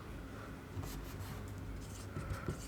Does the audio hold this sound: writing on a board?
yes